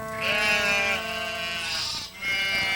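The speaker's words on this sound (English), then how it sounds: "you stay there and look after the sheep" A sheep bleats close and loud in a long, wavering cry, then breaks off briefly before a second bleat follows.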